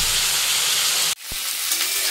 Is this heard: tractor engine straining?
no